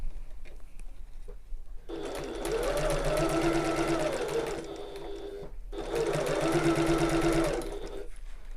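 A domestic sewing machine stitches fabric for a tote bag, running in two steady bursts of about three and a half seconds each, separated by a short pause, close and fairly loud with no talking.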